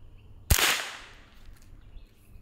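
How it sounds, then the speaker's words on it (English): A single sharp .22 rifle shot fired outdoors at homemade body armor cracks loudly, then fades through a short tail of echo, and quiet outdoor ambience follows. "So let's try the 22 and see if this thing can actually stop a rifle."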